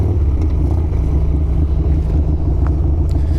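A 2002 Harley-Davidson Sportster 883 flat tracker rumbles steadily, its low engine drone continuous throughout with wind buffeting the microphone and no voices.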